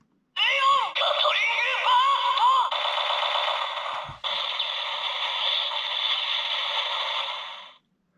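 A Leon Buster 50 toy from No.1 Sentai Gozyuger plays an electronic finisher effect, a loud buzzing, warbling synthesized blast with sweeping tones that cuts briefly near the middle and then continues before stopping.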